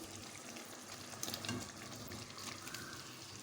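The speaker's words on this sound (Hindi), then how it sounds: "अब मैं इसमें डालूँगी बैंगन और आलू।" Eggplant and potato pieces dropping into hot gravy in a pan for aloo baingan, giving a steady frying sizzle with a brief louder burst of crackle midway and no talk.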